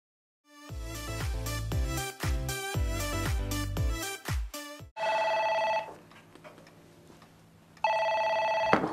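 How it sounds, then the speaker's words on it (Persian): Telephone ringing in a Persian film scene: after several seconds of loud music, a bright electronic ring sounds in two distinct bursts separated by a quieter gap, with no talking. "رها، رها، گوشی رو بردار لطفا."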